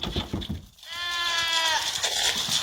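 A goat gives a long, loud, wavering bleat that starts just under a second in and carries to the end, following earlier indistinct background noise.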